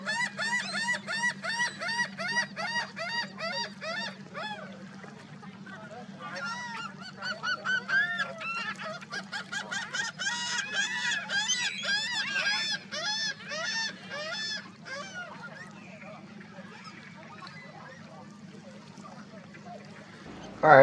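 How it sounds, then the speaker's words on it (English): A flock of geese honking and screeching at sea level, a dense chorus of repeated calls that rises and falls in loudness, with a brief pause mid-way before the calling resumes, all close and loud. "It's just a bunch of birds screeching."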